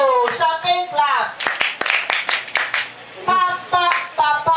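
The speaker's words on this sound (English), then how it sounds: "No, champagne clap." Group of children at a reading session performing a patterned clap, a series of crisp, close claps in quick rhythm, framed by a speaking voice at the start and end.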